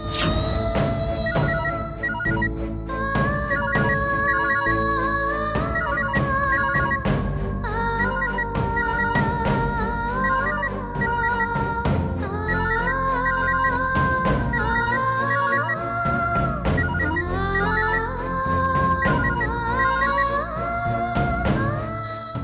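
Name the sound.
phone ringing unanswered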